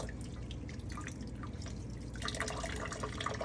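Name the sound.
water rinsing a denture under the tap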